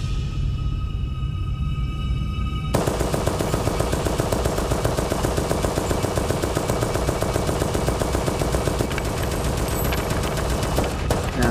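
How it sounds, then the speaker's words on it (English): An old World War I machine gun in an animated trench battle fires a long, loud, continuous rapid burst of shots that starts abruptly after a short quieter lead-in and carries on to the end. "That's an old-ass machine gun."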